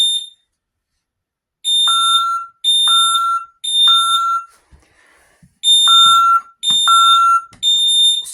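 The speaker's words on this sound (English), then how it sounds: "Fire alarm. Second zone." An ADT Safewatch Pro alarm demonstration board sounds its fire alarm in loud, piercing electronic beep bursts, about six pulses of roughly half a second each, with a brief quiet gap midway.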